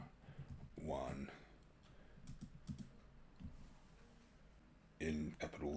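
Computer keyboard keys tapped in short bursts of clicks, quiet and close, with stretches of silence between.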